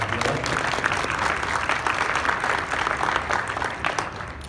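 An audience at an art walk dedication gives Capital City Links Incorporated a round of applause, a steady, dense wash of clapping throughout that eases slightly at the end.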